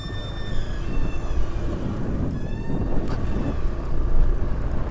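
The KMP BRR ferry boat at sea makes a continuous low engine rumble with heavy wind buffeting the microphone, and a faint higher tonal whine drifts in and out.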